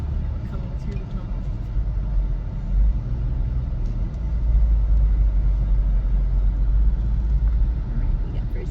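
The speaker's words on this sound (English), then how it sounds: "see about driving through this tunnel" A car drives through a road tunnel in Kentucky, its steady low engine and road rumble swelling loud and enclosed, building slightly midway, with faint voices beneath.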